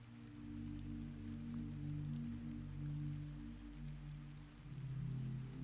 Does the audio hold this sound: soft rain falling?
yes